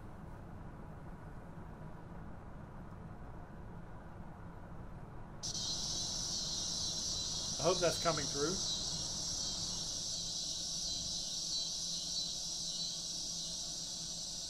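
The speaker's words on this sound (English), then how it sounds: "the annual cicadas, which we hear right now, and they're droning" Steady high-pitched drone of annual cicadas starts abruptly partway through and continues unbroken, with a brief spoken remark over it.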